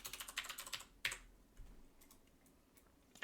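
Quiet computer keyboard typing: a short quick burst of keystrokes, a pause, one sharper tap, then scattered faint clicks, recorded close and alone.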